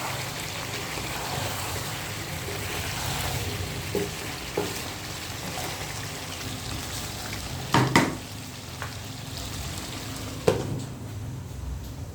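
Food stirred in a frying pan, a low continuous sizzle broken by a few sharp scrapes and knocks of the utensil against the pan, no talking.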